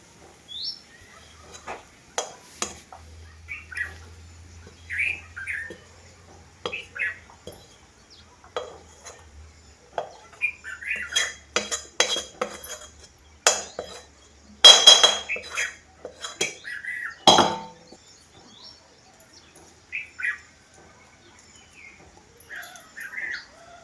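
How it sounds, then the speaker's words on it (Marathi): Warm carrot barfi is pressed and spread with a bowl across a ghee-greased steel plate, giving repeated scraping and clattering metal knocks in irregular bursts, with birds chirping faintly in the background. "वाटीने ना मी हे असं पसरून घेतलेले"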